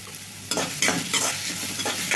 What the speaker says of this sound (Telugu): ఉల్లిపాయలు మరి ఎక్కువసేపు వేగాల్సిన అవసరం లేదండి లైట్గా వేడితే సరిపోతుంది